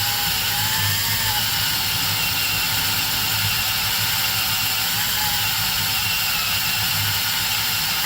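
A power drill bores out rivets on a Ford F-Series truck, a loud, continuous whirring drone that holds steady throughout with no pauses or speech.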